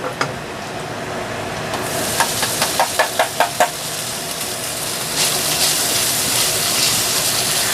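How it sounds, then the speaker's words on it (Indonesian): Beef sizzling in a hot pan with onion and ginger as it is stir-fried, a spatula knocking against the pan in a quick run of about seven clacks, then the frying grows louder. "Ini bawang sama jahe ya. Tak tumis dulu. Terus ini daging sapinya tak masukin."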